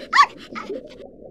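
A single short dog bark in the I Spy Fantasy video game, sharp and clear, followed by a softer trailing yelp, alone with a faint low hum underneath.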